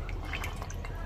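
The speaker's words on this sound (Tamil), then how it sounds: "இந்த சன்னா முழுகிற அளவுக்கு தண்ணி ஊற்றினா போதும்." Water trickles and drips into a pot of chickpeas set to boil for chana masala, a soft, close splashing that runs steadily for about a second with no voices.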